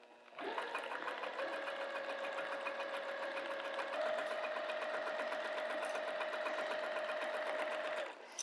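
Steady whirring of a sewing machine stitching a fabric zipper pouch at a short stitch length, one continuous run of about eight seconds at even speed with a slight pitch rise midway.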